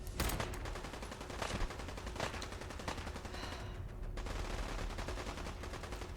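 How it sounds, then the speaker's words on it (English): Rapid automatic gunfire in Fallout 4, fast bursts of shots fired in quick succession, loud and sustained, with a short lull near the middle before the firing picks up again. "The guns are so fast"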